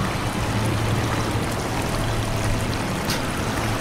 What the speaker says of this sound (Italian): Ah, perché posso far defluire anche l'acqua.